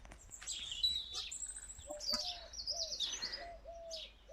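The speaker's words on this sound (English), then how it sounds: "Hope you're enjoying the bird song." Wild birds chirp and sing outdoors in a garden, with several overlapping high tweets and calls, moderately distant and faint against a soft background.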